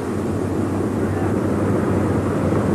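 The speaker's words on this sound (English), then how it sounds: "it's time to get out of this airplane, Bob." Steady, loud drone of a small airplane's engine in flight over a 1979 US skydiving championship, continuous and close with no pauses, filling the cabin just before skydivers jump.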